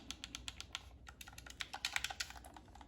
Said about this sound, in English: Very clicky buttons.